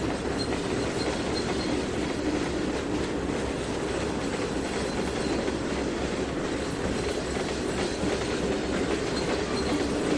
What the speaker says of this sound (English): Hitch a ride with this grain hopper from BNSF.